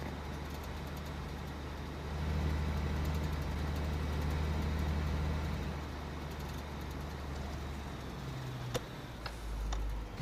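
A truck drives along an Alaskan road, its steady low engine and tyre rumble continuous and close throughout, swelling in the middle, with a few sharp ticks and clicks near the end and no talk.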